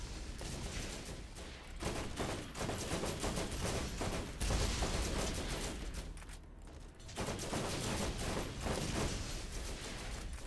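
Dense, continuous gunfire from a Borderlands firefight, including shotgun blasts, rattles on loudly with rapid overlapping shots and only a brief lull midway.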